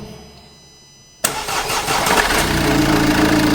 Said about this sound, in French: donc le moteur il tourne super bien